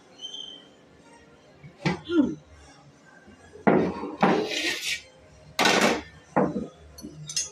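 An Ambur chicken biryani pot is uncovered and its contents stirred, giving a few loud metallic clanks and scrapes of lid and spoon in separate bursts with quiet gaps between.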